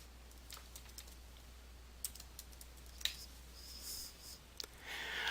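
Fingers type on a computer keyboard in a quiet room, a run of light irregular key clicks with a few sharper taps, close and alone without speech.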